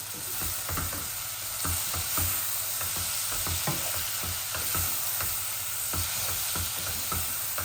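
Spices and dried fish fry in a pan with a steady sizzle and repeated scraping and stirring strokes, close and continuous throughout.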